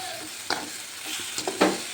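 A salted chili mixture is stirred in a pan, giving several distinct scraping strokes with a soft sizzling hiss between them, close and alone without any talk.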